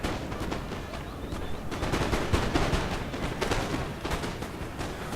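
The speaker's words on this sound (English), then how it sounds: "So our guard are firing away in the trees." A guard unit fires muskets from the trees in a video game battle: a continuous crackling fusillade of overlapping shots, fairly loud and sustained, with no voices.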